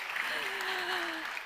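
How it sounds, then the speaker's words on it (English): Audience applause at a Nordic female investment summit, a steady, even clatter of many hands clapping throughout, with a voice briefly speaking over it. "Give her a warm round of applause."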